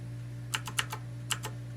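Keys on a mechanical keyboard under repair are pressed in a short burst of six crisp clicks, close and distinct over a steady low electrical hum.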